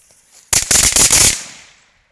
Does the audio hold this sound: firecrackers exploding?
yes